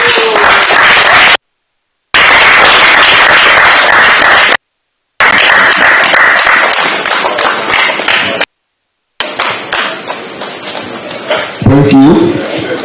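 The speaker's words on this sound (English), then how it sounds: "Another round of applause for him." Loud audience applause breaks out at the official unveiling of a student venture capital grant, a dense wash of clapping and cheering in several bursts separated by abrupt silent cuts.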